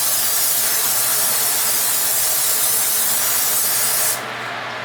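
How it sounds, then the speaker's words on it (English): Steady, close, loud hiss of cooking spray coating a baking pan for about four seconds, then it cuts off into quieter room tone. "now is to pan spray my pan while the oven is warming up"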